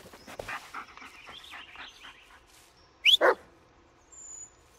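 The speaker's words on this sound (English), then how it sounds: "Yeah, good dog." Bullet the dog in the Blair Witch video game pants steadily at close range, then lets out two quick, loud barks, after which faint panting resumes.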